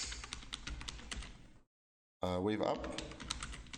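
Quick keystrokes on a computer keyboard entering a currency pair, clicking clusters broken by a brief silence, mixed with someone talking.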